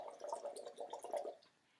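A child blows bubbles into pool water during a parent-and-child swim lesson, a short run of soft bubbling gurgles lasting about a second and a half before trailing off, close and fairly quiet.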